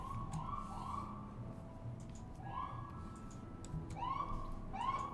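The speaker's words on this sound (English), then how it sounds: "That guy was just playing the siren like." A siren is played in short, rising-and-falling wails, several separate sweeps spread out over a few seconds, fairly faint against a steady low background hum with no talk.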